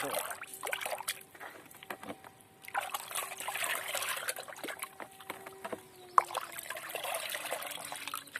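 Tomato fertilizer solution being stirred in a container of water, giving soft intermittent sloshing and trickling splashes in irregular bursts, fairly faint and close, with no talking.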